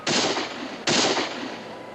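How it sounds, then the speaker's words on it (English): Two loud, sharp gunshots about a second apart, each with a long reverberant tail, heard alone with no talking. "Shots are coming from the garrison, all right,"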